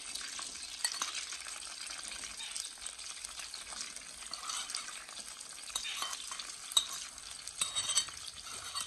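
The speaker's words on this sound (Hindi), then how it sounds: "यहाँ पे प्याज को हम अच्छी तरह से भून लेंगे।" Onions frying in Kashmiri ghee in a village kitchen in Pakistani Punjab give a steady, moderately quiet sizzling hiss, with a few small stirring clinks near the end.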